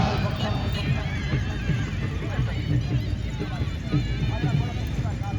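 At a tent pegging festival, horses neigh and their hooves pound at a gallop amid crowd noise, while a commentator talks loudly over the whole scene.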